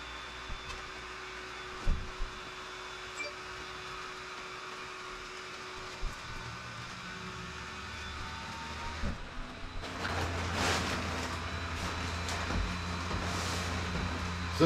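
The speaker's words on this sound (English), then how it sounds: "The fan is unusually loud for a small blower, but it's quite powerful and very effective, as it blew up the birthday cake rather quickly" A small electric blower fan inflates a 6-foot birthday cake, humming steadily and faintly at first, then rising into a louder, fuller whir of rushing air with a few knocks and bumps nearby.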